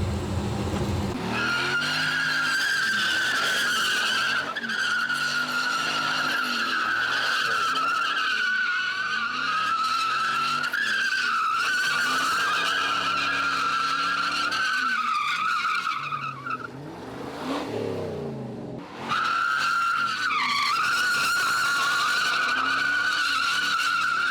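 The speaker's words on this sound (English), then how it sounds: "I'm gonna try to do some burnouts." A custom-built car doing burnouts with faulty power steering, its tires squealing and skidding in long sustained screeches over engine noise, loud and close, with a brief dip before the squeal resumes.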